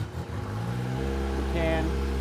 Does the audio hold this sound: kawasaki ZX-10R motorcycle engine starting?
yes